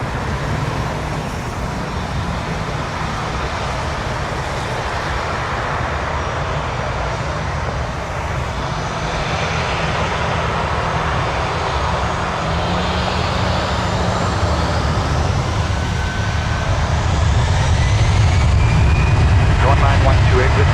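A jet airliner at Toronto Pearson takes off from runway 23, its broad engine roar rumbling steadily and building louder toward the end, heard from a distance with faint radio-style talk in the background.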